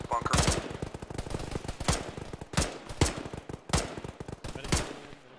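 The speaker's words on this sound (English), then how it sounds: "We still have additional gunfire out to our west, though." Gunfire rings out in the Arma military game, a steady stream of sharp shots with several louder cracks standing out at irregular intervals, fairly close and dense, with no talk over it.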